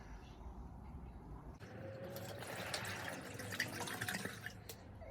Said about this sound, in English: You pour water into the bowl.